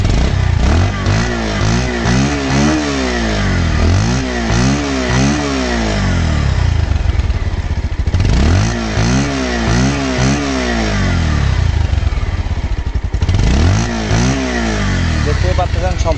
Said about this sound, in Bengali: এখন দেখা হচ্ছে বাইকের সাউন্ড এবং পারফরমেন্স